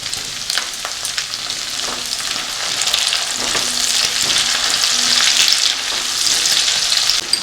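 Onions fried with bay leaf, cloves, cardamom and cinnamon sizzle loudly in a pan as tomato goes in for a Bengali potol dorma, a dense, steady crackle close up with occasional stirring scrapes.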